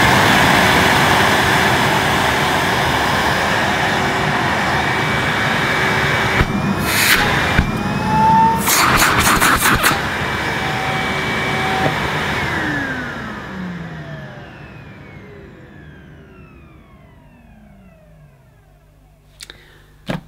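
A Henry Turbo HVR 200T-2 vacuum cleaner's motor roars steadily and loudly, then winds down with a falling whine that fades to near silence, with a couple of sharp clicks at the end.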